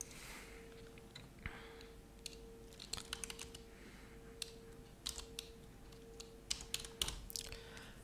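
Quick bursts of computer keyboard typing entering a Wi-Fi SSID, close crisp key clicks in uneven clusters over faint room hum.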